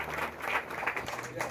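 An audience at a community event in Maharashtra claps together for a birthday greeting, with a steady spread of handclaps at moderate level and a faint background hum.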